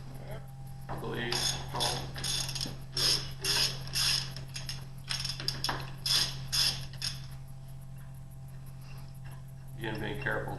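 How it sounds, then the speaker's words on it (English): Small metal clicks and ratcheting knocks from the selector lever support being removed from an M-23 machine, in short irregular bursts close by over a steady low hum, with a quiet pause before a final rattle. "Now you're removing the selector lever support"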